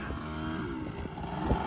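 A Piaggio 125 two-stroke scooter accelerating hard, a buzzing, rising engine note held steady and close with no talk over it.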